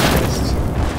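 A rocket explodes in the Battlefield 4 video game, a dense, continuous booming blast that fills the whole second at a steady loud level.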